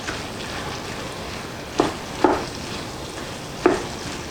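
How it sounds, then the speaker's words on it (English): Onions frying in a pan, a steady soft sizzle throughout, broken by three light knocks of a utensil stirring against the pan. "Toss my onions in. Have a little stir about."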